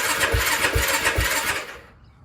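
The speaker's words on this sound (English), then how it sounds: "It's cranking." A Yamaha YFZ450 quad's engine cranks over without catching: three rhythmic, chugging starter pulses close up, then the whirring fades out into silence.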